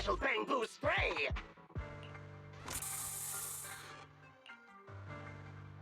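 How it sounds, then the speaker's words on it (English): A hissing spray burst from a special Bangbu spray attack in Zenless Zone Zero, loud and close, running about a second amid game music, with voices speaking before it. "Here, have a taste of this special Bangbu spray"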